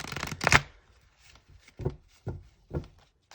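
Oracle cards being shuffled by hand, a quick dense riffle of papery flicks followed by three short separate card slaps, close and fairly quiet with no talking.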